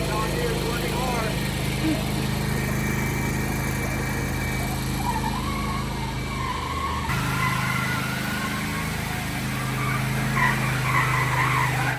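A John Deere machine engine runs steadily and loudly close by, a continuous low drone with a rough mechanical texture throughout, while people talk over it.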